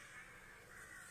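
Baby crows caw faintly in the distance in a continuous hoarse clamour over a steady background hiss.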